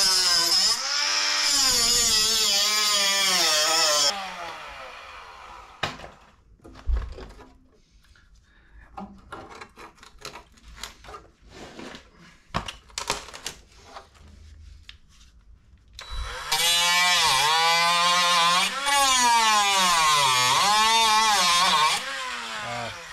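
A power tool whines loud and close as it cuts away metal on an MGB GT classic car being stripped for restoration, running in two long sustained bursts with clanks and scraping in the quiet gap between.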